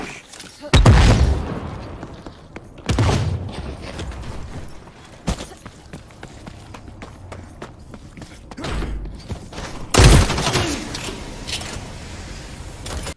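Gunfire and grenade explosions in the shooter game The Cycle: Frontier: three heavy blasts stand out early, mid-way and near the end, with lighter clattering shots and mechanical rattles filling the gaps between them.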